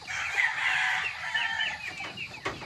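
Gamefowl chicks and broodstock on a gamefarm cluck and peep steadily in a busy, overlapping chorus close by, with no talk.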